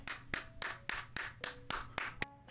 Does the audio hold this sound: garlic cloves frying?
no